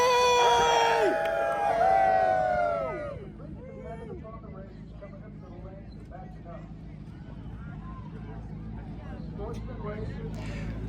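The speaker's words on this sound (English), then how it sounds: "we want to hear everybody scream and yell for 20 championships" A large crowd at a Top Fuel nitro motorcycle drag racing event screams and cheers loudly for a few seconds, then the roar fades into a steady murmur of crowd noise with scattered shouts.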